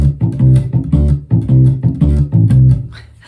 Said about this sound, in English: Usually ghost notes are combined with sounding notes and they sound like this.